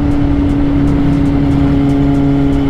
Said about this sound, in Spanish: esa coletilla de GT le pone el cambio semiautomático sin embrague, que eso hace que suene la moto maravillosamente